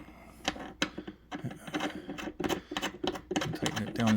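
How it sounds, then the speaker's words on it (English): Bolts are driven into the back of an IKEA LANGARYD lounge, a close run of quick ratcheting clicks and taps with brief pauses between bursts. "Tighten it down all the way."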